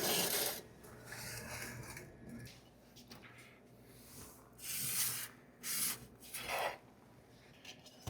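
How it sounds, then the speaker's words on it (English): A utensil scrapes along the edge of a baked pizza in its pan, loosening a crisp frico cheese crust, heard as several short rasping scrapes in bursts with quiet gaps between, fairly faint and close. "Scrape along the outside so we don't disturb that frico crust."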